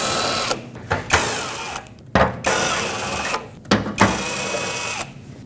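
A power driver backs out screws holding the plastic near the radiator of a Nissan Frontier 2.5L four-cylinder: several loud, close whirring bursts separated by short pauses and small clicks.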